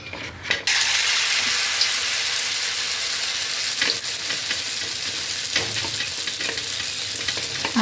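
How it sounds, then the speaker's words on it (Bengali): Stuffed pointed gourd drops into hot oil and fries with a loud, continuous sizzle that begins abruptly and holds steady, with occasional stirring clinks. "আস্তে আস্তে করে তেলে দিবেন, নাহলে কিন্তু গায়ে ছিটকে যাবে।"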